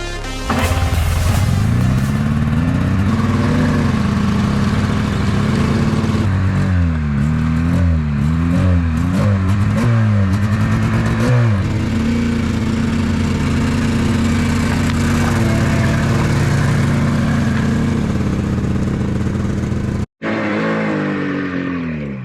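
A Yamaha Phazer snowmobile engine runs on dirt after a carburetor repair, roaring loudly and close with repeated revs that swing up and down in pitch before the sound cuts off abruptly near the end.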